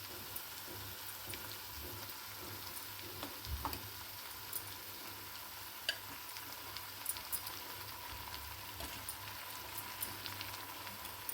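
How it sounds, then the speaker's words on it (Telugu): Eggplant paste frying with onions in a pan for a spiced eggplant chutney gives a faint, even sizzle with scattered small crackles, steady throughout and with no one speaking. "వేగుతుంది కదా ఈ వేగేటప్పుడు ఈ వంకాయ పేస్ట్ని యాడ్ చేద్దాం"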